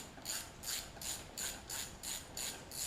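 A ratchet with a 1/4-inch wrench turns a fastener while removing the carburetor from a Coleman 1500 psi pressure washer with a Tecumseh engine, giving about eight evenly spaced, close clicking strokes in a steady rhythm.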